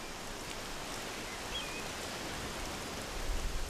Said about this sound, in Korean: 빗속을 달리는 맛이 또 최고입니다.